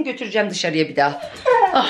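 A dog whimpers and whines in high, wavering yelps at a home on a rainy day, while someone speaks over and between the cries.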